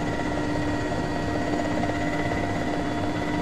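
Helicopter in a video game, a steady loud rotor and turbine drone running without pause, close and unchanging under the game's ambience.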